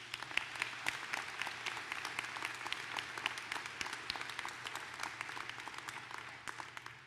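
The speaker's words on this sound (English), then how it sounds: "Let's give them a round of applause as well." A university convocation crowd at UW-Stevens Point gives a round of applause, a sustained, fairly faint patter of many hands clapping with crisp individual claps standing out, steady until it begins to taper at the end.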